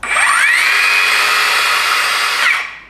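A PUMA cordless 5-inch circular saw fitted with a 30-tooth blade spins up to cutting speed and holds a loud, steady high whine for about two and a half seconds before winding down, close and alone.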